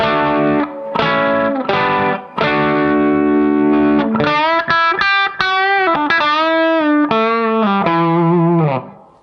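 Bright, overdriven electric guitar on the bridge pickup playing chords then a bending, vibrato-laden lead line, loud and close with no talking.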